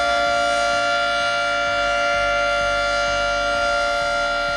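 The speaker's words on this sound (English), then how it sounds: "2T22 Siren." A 2T22 civil defense siren sounds loud and unbroken, a held electronic wail with strong layered harmonics and no voices over it.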